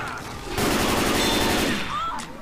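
Sustained burst of automatic gunfire from the zombie shooter game Left 4 Dead 2, loud and dense for about a second and a half, with a voice faintly present around it.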